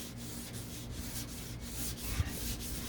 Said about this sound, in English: see it sands down really nice